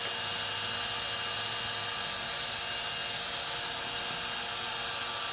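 Milwaukee M18 cordless heat gun blowing hot air over heat shrink, a steady, quiet fan-driven hiss that holds constant throughout with no talking.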